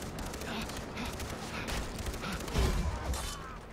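Rapid magnum gunshots and other gunfire sound in a co-op session of the shooter game Far Cry 3, including an attack on a train, as sharp bursts over a busy wash of game noise.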